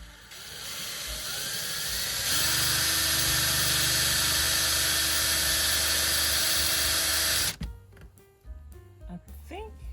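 A power drill whines steadily at high speed for several seconds while fitting a 30 amp RV power plug in a camper van, then cuts off abruptly, followed by quieter clicks and handling noises.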